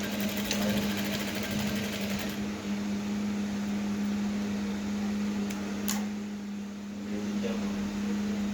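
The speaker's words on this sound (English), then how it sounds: "So we'll go to the sewing machine to sew that all up." A sewing machine stitches fabric for a one-shoulder peplum blouse, a steady close mechanical hum and whir running continuously, with a few faint clicks midway.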